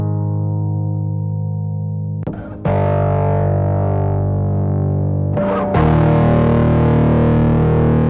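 Sustained distorted electric guitar chords through a Chase Bliss x Analog Man Brothers AM pedal ringing out, with two brief noisy transitions as the tone changes, growing louder and grittier toward the end.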